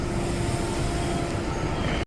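A Delhi Metro train rumbles loudly and continuously at Sarojini Nagar station, with a steady low roar and a faint sustained hum, ending abruptly.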